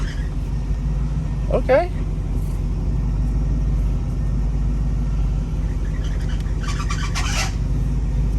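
Engine of a 1986 Cutlass lowrider idling just after starting, a steady low rumble running under brief bits of talk, with a short whine and clatter near the end.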